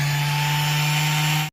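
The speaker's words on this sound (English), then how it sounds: "We've got to do the sanding in a well ventilated area." An electric sander with a sandpaper pad, used in a van, running with a loud, steady motor whine and buzzing hum from close by, then stopping abruptly.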